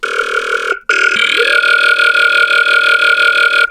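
Synthesizer sound processed through an Effector plugin on a phaser or Vox setting: a loud, buzzy sustained tone with a pulsing, warbling texture, a brief gap near the start, then continuing steadily with no talking.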